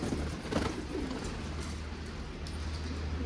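Pigeons coo softly in low, rolling murmurs over a steady background hum, with a few faint flutters.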